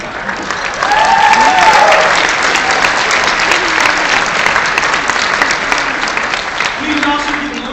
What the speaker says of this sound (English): So please give MALDEF a round of applause again.